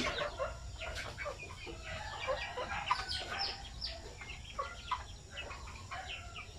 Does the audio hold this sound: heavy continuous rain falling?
no